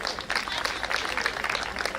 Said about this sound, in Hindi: ऐसे पार्षद के लिए जोरदार ताली बजाओ